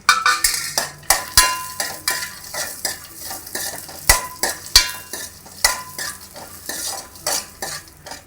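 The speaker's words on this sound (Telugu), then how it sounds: "ఇప్పుడు జీడిపప్పులు అవి వేపుకోవాలండి కిస్మిస్ బాదమని దారుగా వేపుకోవాలి" Cashews, raisins and almonds frying in ghee in a pan for Annavaram temple prasadam, with steady stirring and sharp metal spoon clanks against the pan over a low sizzle.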